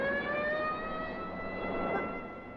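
An ambulance siren wails loudly and continuously throughout, a steady sustained tone that swells slightly toward the end, with no voices over it.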